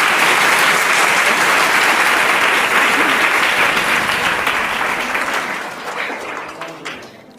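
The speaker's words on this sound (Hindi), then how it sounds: "एक बार जोरदार तालियां हो जाए सोनी जी के लिए।" A studio audience on a quiz-show set claps loudly and densely for a contestant, sustained for several seconds before tapering off near the end.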